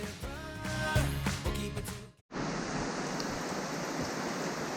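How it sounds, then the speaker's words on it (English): Steady rain falling all day around a boat on the ocean, a dense even hiss that takes over after a brief gap, following a louder busy passage at the start. "It has been raining all day long."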